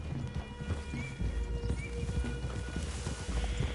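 Horses walking in Red Dead Redemption 2, hooves clip-clopping in a steady irregular rhythm over low rumbling ambience, with an occasional faint whinny and no talk.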